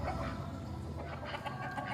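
Free-range native country chickens cluck steadily at close range, several hens overlapping in a busy, continuous chatter with occasional sharper calls.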